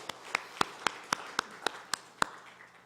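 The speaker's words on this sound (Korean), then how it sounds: "박수로 하나님께 영광 올려드리십니다." A church congregation claps in a slow, even rhythm, about nine sharp claps spaced roughly a quarter second apart, moderately near and fading toward the end.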